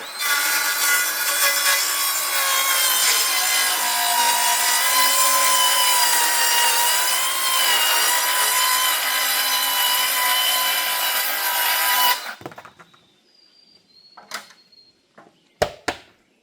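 Hand saw cutting through a wooden board while a wood stove room is built, a steady loud rasping stroke for about twelve seconds, then stopping into quieter scattered knocks and small clicks.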